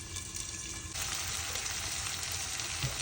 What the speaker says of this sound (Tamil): இது இப்படியே கொஞ்சம் நல்லா வதங்கட்டும். நெருப்பை குறைச்சி வதங்க விடுவோம்.